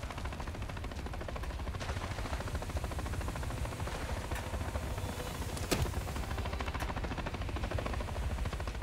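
Attack helicopter taking damage in a Call of Duty: Modern Warfare 3 battle, its steady rotor roar running continuously amid loud dense gunfire and sharp explosive bursts.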